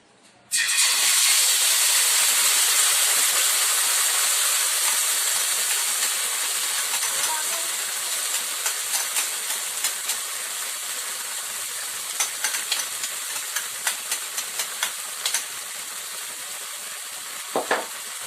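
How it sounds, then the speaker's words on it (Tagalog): Marinated chicken hits a hot pan for Pinoy-style bibimbap, bursting into a loud, steady sizzle that slowly eases, with sharp spitting pops and crackles growing more frequent toward the end. "isunod na natin ang ating marinated chicken ng 1 hour"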